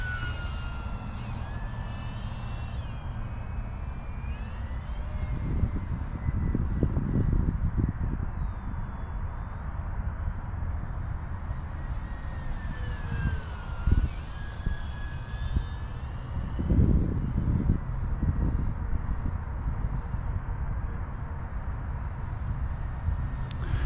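A small Arrows Hobby P-51D Mustang 850mm RC warbird flies overhead, its electric motor whining and rising and falling in pitch as it banks and passes, over steady outdoor background noise with occasional low rumbles.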